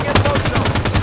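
Rapid automatic gunfire from Halo 5: Guardians online Slayer multiplayer, a steady stream of loud, closely spaced shots filling the whole short moment without a break.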